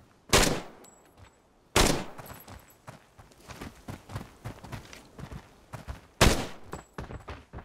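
Sharp gunshots from the video game Arena Breakout crack out in a few loud bursts, separated by quieter clicks and rapid shuffling movements.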